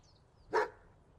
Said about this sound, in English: You're a very good guard dog and a good tracker.